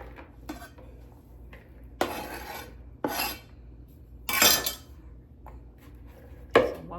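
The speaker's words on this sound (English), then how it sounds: "I'm going to put those in the bowl." Cooked, seasoned chunks of chicken breast being scraped into a single mixing bowl for a chicken casserole: five or six close, fairly loud bursts of scraping and clattering against the dish, spaced irregularly with quiet pauses and no talking.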